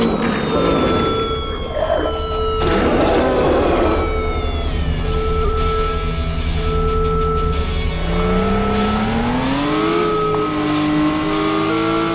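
Vehicle engine from the Halo fan game Containment, a loud continuous motor drone whose pitch climbs and falls with driving, with rising tonal whines and bursts of game action and gunfire throughout, no speech.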